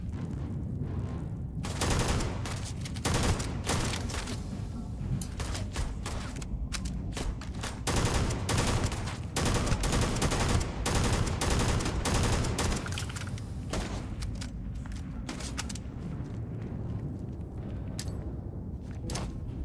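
Sustained rifle gunfire in the space game Starfield, rapid bursts and single shots cracking almost continuously with thumps and impacts, loud and dense throughout.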